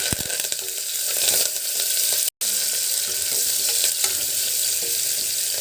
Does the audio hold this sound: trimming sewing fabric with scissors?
no